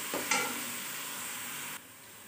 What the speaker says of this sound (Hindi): प्याज को ब्राउन कर लेती हूँ।